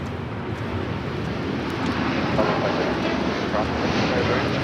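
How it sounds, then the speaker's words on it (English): An EL AL Boeing 787-9 Dreamliner in retro livery takes off from foggy LAX bound for Tel Aviv, a steady, distant broadband jet roar mixed with wind noise, holding level for several seconds. "That was LL Flight 6 taking off to Tel Aviv on the 787-9 Dreamliner in the retro livery"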